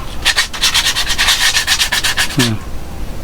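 Rhythmic back-and-forth rasping of sandpaper rubbed by hand across a shoe outsole, about a dozen quick close strokes, stopping near the end with a brief low thump.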